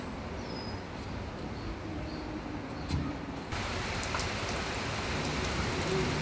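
Steady rain falls continuously in an outdoor setting, a dense even hiss of drops on surfaces that grows slightly louder halfway through, with a single faint knock near the middle and no voices.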